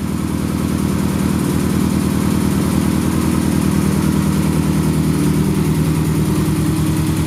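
A high-mileage car with a non-working odometer, overdue for a tune-up and timing belt, idles steadily and loudly close by, a constant low pulsing rumble with no talk.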